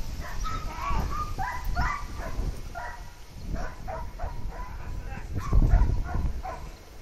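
Service dogs bark repeatedly during training, with loud overlapping barks, yips and whimpers in a steady, agitated run over several seconds against a noisy outdoor background.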